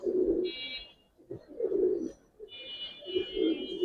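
Male Giribaz pigeon cooing in a loft, a few low, soft murmuring coos in bursts with short pauses, close by, with faint higher tones and background noise between them.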